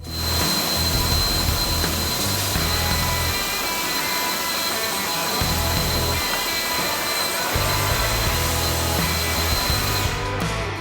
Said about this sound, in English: The Husqvarna Leaf Blaster literally shot the sled tight against the nozzle of the Makita